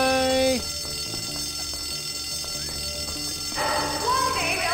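School fire alarm ringing in the video game Bully: Scholarship Edition, a loud electronic tone followed by a steady run of repeated metallic rings that continues throughout.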